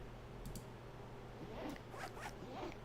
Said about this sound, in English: Is that like a zipper?